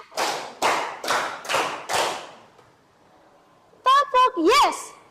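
Children in a classroom clap a rhythmic 'tepuk siap belajar' pattern, five loud, evenly spaced group claps close by, followed after a pause by a few short sung or chanted voices.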